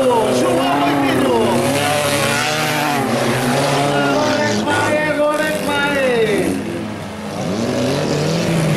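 Stock cars racing at Cabeço de Mira, engines roaring loud and continuous with shifting revs as one car overtakes at speed, under excited commentary and crowd noise throughout.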